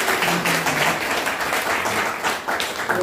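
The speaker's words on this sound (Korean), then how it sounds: "다시 한번 박수 한번 해주세요." An audience applauds at a gathering after a guest is introduced, a dense, continuous wash of clapping at moderate loudness with a faint voice underneath.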